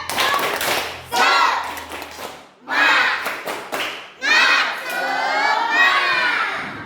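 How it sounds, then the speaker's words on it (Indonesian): A primary school class does a rhythmic spirit clap, bursts of children's shouting chant alternating with patterned claps and thumps, loud and close, in three or four energetic phrases. "Tepuk semangat."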